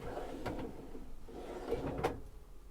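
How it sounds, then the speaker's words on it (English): A drawer beneath the island bed of a Niesmann + Bischoff Arto 88 LF motorhome sliding open, giving soft low rumbles and two brief knocks, faint and close. "There's drawers down underneath here."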